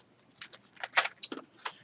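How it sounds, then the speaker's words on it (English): Decorative metal keys jangle in a quick run of bright metallic clinks and rattles, several separate shakes close by, fairly soft, with no voice over them. "As well as these keys, and these are just for decoration."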